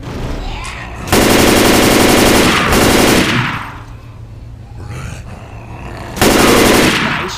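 Automatic gunfire in the Left 4 Dead zombie shooter game, with two long, loud, close bursts of rapid fire separated by a few quieter seconds of game ambience.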